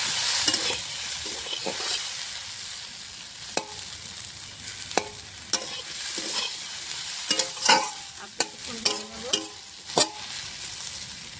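Taro corm pieces frying slowly in a pan with salt and turmeric give a continuous close sizzle, broken by sharp stirring clacks and scrapes that grow busier toward the end, with no voices.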